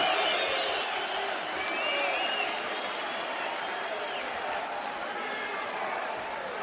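A UFC arena crowd roars and cheers after Ian Freeman beats Frank Mir, the sustained noise swelling toward a chant while a commentator talks over it.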